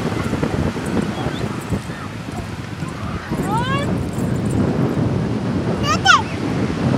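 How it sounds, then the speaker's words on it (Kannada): Surf rolls onto the sand at Clearwater Beach, Florida, a steady broad wash of waves with wind buffeting the microphone, while a few brief chirping calls rise above it. "ಈಗ ಬೀಚ್ಗೆ ಬಂದಿದ್ದೀರಿ. ಇಲ್ಲಿ ಕ್ಲಿಯರ್ ವಾಟರ್ ಬೀಚ್, ಫ್ಲೋರಿಡಾ."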